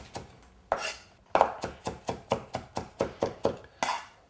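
A knife mincing onion and garlic on a cutting board, a fast, even run of about a dozen crisp chops after a few opening strikes, near and clear with nobody speaking.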